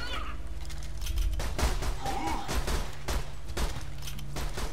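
Rapid bursts of gunfire from a Borderlands 2 duel, repeated broadband shots in clusters over a steady low background, loud and close.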